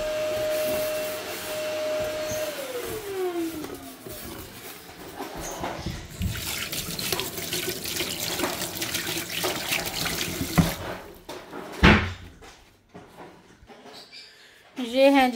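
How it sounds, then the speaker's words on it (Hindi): Tap water runs steadily into a kitchen sink as it is washed, with splashing and rinsing that rise and fall, a voice speaking now and then over the flow, then clattering near the end. "बस एक चाय वाली देचकी रह गई या सिंक रह गया साफ करने वाला"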